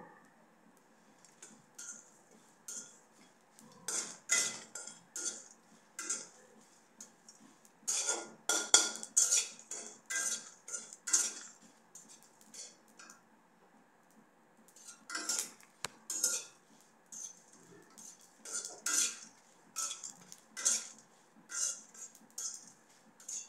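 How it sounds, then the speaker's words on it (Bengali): Spices dry-roasted in a hot wok, stirred with a metal spatula that clinks and scrapes against the pan in irregular bursts of clatter, close and fairly loud, with no talking. "কড়াই গরম করে এবার মশলাগুলো দিয়ে দিচ্ছি।"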